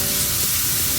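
Vegetables for tortillas frying in a pan, a steady close sizzle with a crackling hiss running unbroken throughout and no talk.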